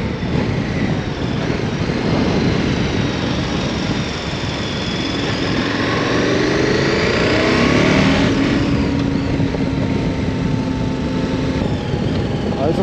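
A 2022 KTM 1290 Super Adventure R motorcycle engine runs and revs steadily, loud and continuous, with pitch rising and falling around the middle as it accelerates, wind and road noise mixed in.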